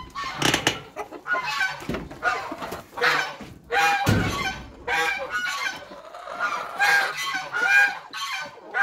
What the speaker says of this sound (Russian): Пойду птицу кормить.